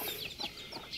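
Brahma cross-breed chickens clucking close by, a few short soft clucks and calls in quick succession, no talk.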